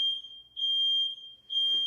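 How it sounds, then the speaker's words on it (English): A smoke alarm goes off after an oven door is opened on a roasting chicken, sounding three loud, steady high-pitched beeps with short gaps between them, and nobody talks over it. "Alright, I literally have the most dramatic fire freaking alarms ever. All I did was open the oven door and it's not even smoky"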